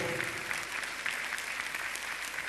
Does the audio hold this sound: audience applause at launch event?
yes